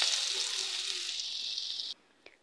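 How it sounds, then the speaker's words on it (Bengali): Onions frying in oil for a hilsa fish tail mash make a loud, steady sizzling hiss up close that stops abruptly near the end, followed by a brief clink. "একই তেলে এখন আমি পেঁয়াজ ভেজে নেব।"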